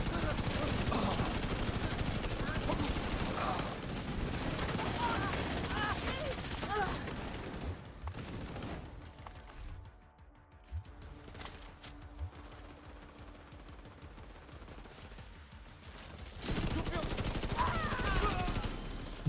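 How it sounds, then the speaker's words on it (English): Rapid automatic gunfire in a first-person shooter, loud dense bursts with a quieter lull in the middle before heavy firing resumes. "I'm just gonna run around and shoot."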